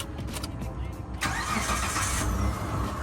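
A Mitsubishi Pajero 3.0 MIVEC engine, converted to LPG, cranks and catches, then settles into a steady, smooth idle hum, close by, with a voice talking over it.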